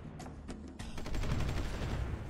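Video-game gunfire rips into tanks and an armored personnel carrier: a few sharp shots lead into a dense, sustained burst of rapid automatic fire and impacts, moderately loud, with no talking.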